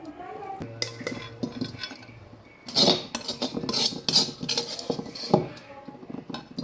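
Star gooseberry pickle is spooned into a clean, dry glass jar, with repeated clinks and scrapes of a metal spoon against glass, some sharp taps and brief stirring, close up and fairly loud, with faint voice in the background.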